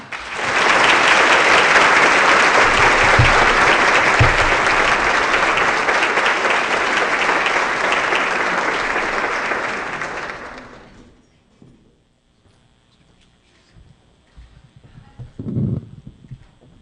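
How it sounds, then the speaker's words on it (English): An evening awards audience in Newport News breaks into loud, dense applause that holds steady for about ten seconds, then fades out, leaving a quiet room with faint rustling and a low thump. "Please join me, give a loud round of applause"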